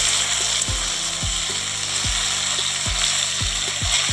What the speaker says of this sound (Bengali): আবার একবার নাড়াচাড়া করে নেব